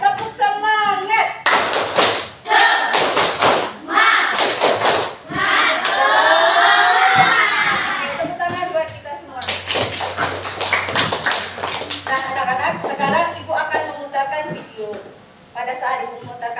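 Students in a classroom perform a rhythmic 'tepuk semangat' clapping chant, bursts of sharp, patterned hand claps alternating with chanted voices, loud and close, in several short rounds.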